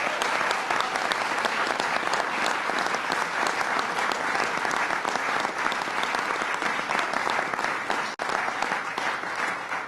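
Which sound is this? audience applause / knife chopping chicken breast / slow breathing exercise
audience applause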